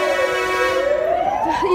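A loud fire engine siren wails nearby after an earthquake in Elazığ, its pitch sweeping steadily upward in one long rising tone.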